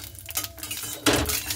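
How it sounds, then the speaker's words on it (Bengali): Spices being stirred in a cooking pan, a few close metallic scrapes and clinks of a spoon against the pan, ending in a louder burst of scraping. "এবার আমি খুব ভালো মতো করে নাড়াচাড়া করে নেব।"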